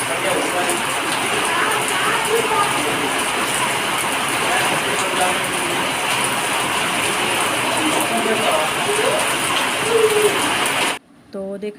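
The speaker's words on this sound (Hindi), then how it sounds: "देखा आपने शाम को कितनी बारिश हो रही थी, बहुत तेज़ बारिश हुई" Heavy evening rain pours down in a steady, dense hiss for about eleven seconds before cutting off abruptly.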